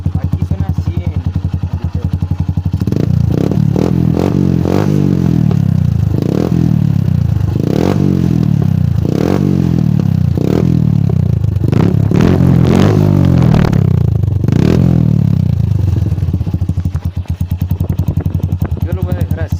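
A motorcycle fitted with an Akrapovic exhaust with the silencer removed, its engine idling loudly and blipping through a series of sharp throttle revs, close up.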